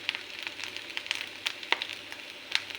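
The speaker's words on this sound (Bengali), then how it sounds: "ভালো করে একটু নেড়ে নেব।" Capsicum and paneer coated with turmeric, Kashmiri red chilli, salt and paneer masala sizzle softly in a pan, with faint scraping and a few sharp metallic clicks from a stirring spoon.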